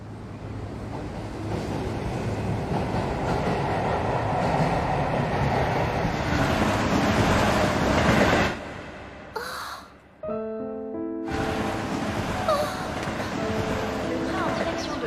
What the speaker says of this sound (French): Le train en direction de Aramiyama va bientôt entrer en gare